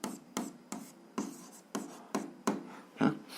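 A pen writes out an algebra solution by hand for a seventh-grade exercise, with seven or eight distinct rhythmic scratching strokes, close and clear, with no talk.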